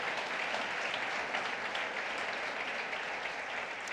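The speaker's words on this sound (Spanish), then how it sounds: "Ese aplauso es para Jesucristo." A church congregation applauds in a steady, dense wash of clapping that sounds somewhat distant and fills the whole moment without a break.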